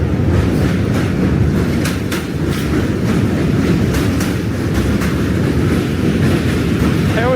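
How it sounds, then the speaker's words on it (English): A New York City subway train rumbles loudly and steadily, with rhythmic clattering wheels and a brief squeal near the end, heard up close. "Train's coming."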